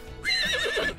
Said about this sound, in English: Your adorable little horse.